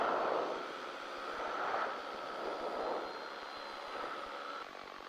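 Piper Pacer light aircraft flying in the airport traffic pattern, heard from the cockpit: a steady, moderately loud propeller engine drone with a broad rushing tone that swells and eases slightly, with no talking.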